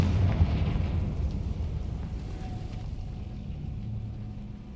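A Confringo fire-blast spell bursts in Hogwarts Legacy, a dull low boom that swells early and then rolls off into a long rumbling fade, heard alone without talk.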